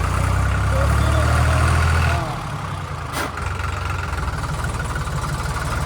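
A new New Holland tractor's heavy diesel engine runs loudly nearby, a deep throbbing rumble that eases slightly after a couple of seconds, with a voice speaking over it.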